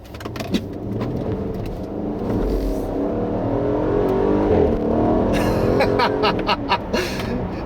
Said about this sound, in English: the exhaust has that fart crackle that I love so much